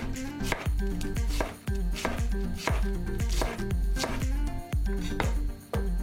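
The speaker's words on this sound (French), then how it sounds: "Pour les poireaux, la seule technique est celle du couteau." A sharp chef's knife chops leeks on a cutting board in a steady rapid rhythm of crisp, close knocks, loud and continuous with no talking, while raw vegetables are prepared for a dehydrated soup and broth.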